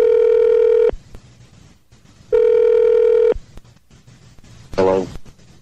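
Two long electronic telephone rings, each about a second, separated by quiet gaps, followed by a brief muffled voice near the end.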